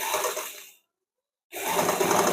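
A sewing machine stitches a lined blouse with a fast mechanical clatter, running in two bursts with a short full pause between them. No one speaks.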